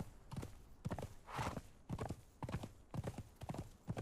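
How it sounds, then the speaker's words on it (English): Horse hooves clip-clop steadily in the survival game Conan Exiles, a close, rhythmic run of paired hoof beats repeating through the whole stretch, with a faint whinny in the mix. "It's so weird being on the horse all of a sudden."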